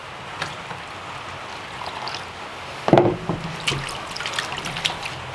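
Water trickles and splashes through a gold sluice, a faint steady running with a sudden louder pour partway through followed by bubbly spatters.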